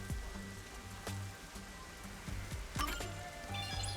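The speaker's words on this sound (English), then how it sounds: "The rain just won't stop, huh?" Rain patters steadily in the video game Master Detective Archives: Rain Code, a soft continuous hiss of drops with occasional sharper clinks and low thuds mixed in.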